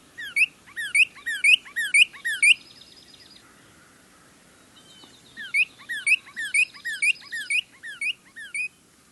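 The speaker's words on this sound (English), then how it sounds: "A female northern cardinal is as adept as a male at singing." A female northern cardinal sings clear, rapid whistled phrases, a run of repeated down-slurred notes. A brief pause comes between two bursts. The song is close and distinct over a quiet background.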